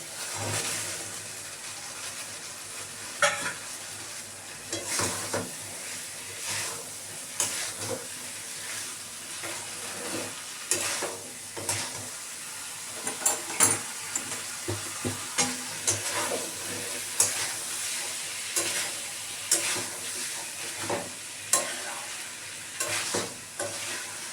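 Boiled chickpeas stirred into spiced masala frying in a pan, with a steady low sizzle under repeated scraping and clattering stirring strokes, close up and without talk.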